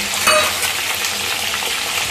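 Cauliflower pieces fry in hot oil in a wok, giving a loud, continuous crackling sizzle close by with a faint stir partway through.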